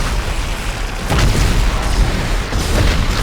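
Heavy gunfire and booming blasts in the Dead Space video game, loud dense bursts that swell and recede over a few seconds, with no speech.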